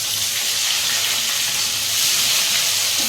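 Chopped onions frying in hot oil with whole cumin for chital fish muithya, a steady, loud broadband sizzle that holds evenly throughout with no voices.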